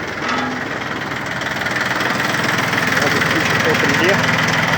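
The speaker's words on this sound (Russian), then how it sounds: "Давайте включим фрезу." A Yanmar F13D 13 hp tractor runs with its rotary tiller engaged, a steady, knocking mid-pitched engine drone that grows slightly louder over the clip, with faint talk now and then.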